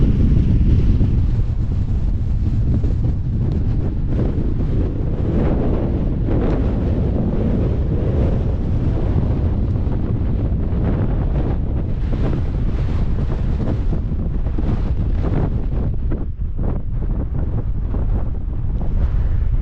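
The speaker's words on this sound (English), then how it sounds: "Crazy wind up here." Strong wind roars steadily across an open hilltop summit, Titterstone Clee in Shropshire, England, buffeting the microphone with loud, continuous gusts throughout and no voices.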